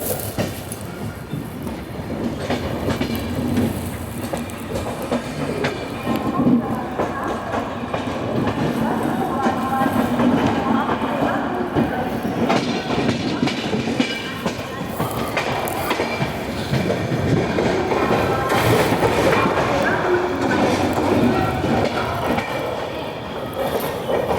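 The Vidarbha Express runs on rails, a loud continuous rumble with wheel clatter and faint squeal throughout, heard from inside the moving train.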